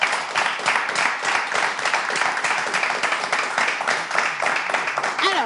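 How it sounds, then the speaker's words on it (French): A crowd applauds steadily. The dense clapping continues at an even level throughout. "Je vais vous demander, s'il vous plaît, d'applaudir notre invitée."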